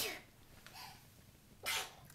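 A single quiet sneeze, a sharp breathy burst preceded by a faint intake of breath, heard close in a calm room.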